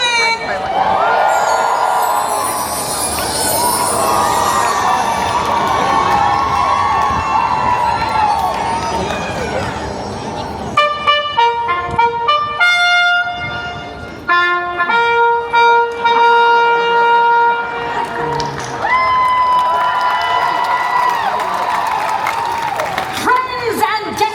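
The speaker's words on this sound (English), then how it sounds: "Give yourself a round of applause!" Crowd at a Disney Destiny Black Panther stage show cheers and applauds loudly in a dense roar, which gives way around the middle to bright musical tones and chimes while the crowd noise continues beneath.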